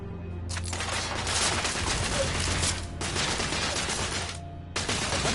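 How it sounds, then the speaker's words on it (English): Heavy gunfire from the game The Order: 1886, sustained loud bursts of rapid shots that pour out in long volleys with brief gaps between them, dense and close. "I'm under heavy fire!"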